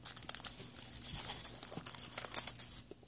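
Scissors snip and crinkle through a small piece of material, with quiet, irregular cutting and rustling sounds close up in a quiet room.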